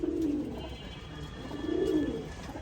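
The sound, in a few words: pigeons cooing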